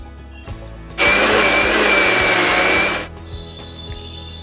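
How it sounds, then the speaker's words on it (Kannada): A mixer grinder runs for about two seconds, grinding soaked green gram with ground rice into dosa batter. It gives a loud, steady whirring roar that starts and stops abruptly, with no talk. "ಒಂದು ಕಪ್ಪಷ್ಟು ನೆನೆಸಿದಂಥ ಹೆಸರು ಕಾಳನ್ನು ಈ ರುಬ್ಬಿದಂಥ ಅಕ್ಕಿಗೆ ಹಾಕೊಂಡು ಮತ್ತೆ ಮಿಕ್ಸಿಗೆ ಹಾಕೋಣ"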